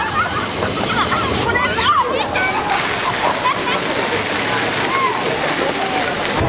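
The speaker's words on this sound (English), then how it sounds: "Oh, water fountain." A water fountain at the Tokyo DisneySea theme park splashes in a continuous, fairly loud wash, with crowd chatter and voices mixed in throughout.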